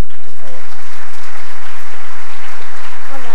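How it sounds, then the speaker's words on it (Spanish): Loud, sustained audience applause fills a conference hall as a speaker is welcomed onstage at a 2016 training congress, dense clapping throughout with some voices in the crowd. "acompáñenme a recibir con un fuerte aplauso en el escenario"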